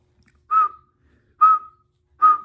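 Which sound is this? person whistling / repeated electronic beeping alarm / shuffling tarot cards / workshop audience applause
person whistling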